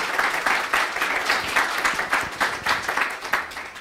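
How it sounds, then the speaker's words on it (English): Audience applause fills a lecture hall at a digital preservation conference, a dense, steady patter of many hands clapping close by for the whole stretch with no voices over it. "Okay, round of applause, please"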